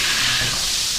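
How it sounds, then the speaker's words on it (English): Steam hisses loudly off a hot Blackstone griddle as it is being cleaned, a dense, continuous rush heard up close and alone. "Steam's going to wash everything up to the surface, and you gently scrape"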